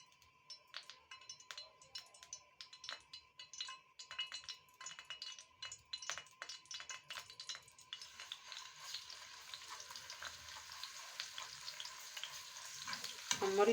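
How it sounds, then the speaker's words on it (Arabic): Oil sizzles and crackles steadily in a pan while Alexandrian liver is cooked, with light clinks of a utensil against the pan throughout, growing denser and louder toward the end. "الزيت هيقدح، هتحطي ربع كوباية زيت، ربع كوباية زيت. بصي الزيت هيقدح."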